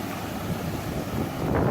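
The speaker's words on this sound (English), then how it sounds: "Because big waves." Large hurricane-driven waves wash into a flooded yard on the Texas coast during Hurricane Harvey. The surge is heard as a continuous broadband rush, with wind buffeting the microphone and no voices.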